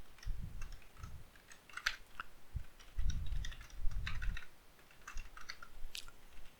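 Computer keyboard typed on at a desk during coding, with soft scattered key clicks in short irregular bursts, close but quiet, over a faint low background rumble.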